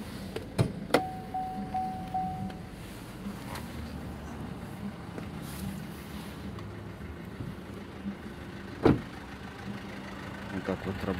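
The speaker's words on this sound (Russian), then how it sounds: "Так вот работает автомобильчик" A 2016 Opel Astra idles with a low, steady engine hum under intermittent talk, broken by a few sharp clicks and knocks close by.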